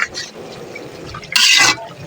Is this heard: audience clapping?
no